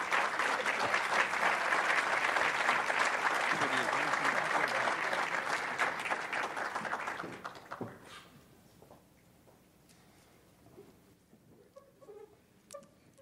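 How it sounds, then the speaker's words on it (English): Loud, dense audience applause for the entrepreneurs who competed in an elevator pitch competition at an award presentation evening, sustained for about eight seconds before fading into quieter room noise. "Give them a big round of applause."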